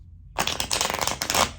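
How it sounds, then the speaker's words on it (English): A deck of playing cards is riffled in a cardistry shuffle: after a brief silence, a dense, close, crisp flutter of card edges runs steadily for over a second. "so there's a shuffle"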